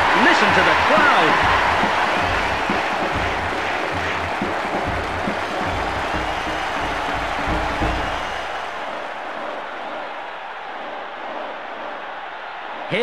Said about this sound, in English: What a noise. Listen to the crowd.